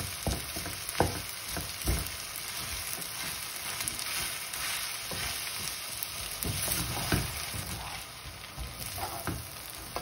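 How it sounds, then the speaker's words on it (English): Chicken biryani rice fries and sizzles steadily in a pan as a utensil stirs and breaks up clumps, with soft scraping knocks every second or so against the constant crackle. "Break up the rice clumps."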